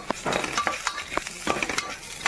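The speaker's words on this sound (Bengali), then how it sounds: "ভাজা ভাজা করে মুসুর ডালটা তেলের সাথে ভাজবো।" Red lentils are stirred and fried in oil in a pan, giving a close sizzle with rhythmic scraping strokes of a spoon, and no voices.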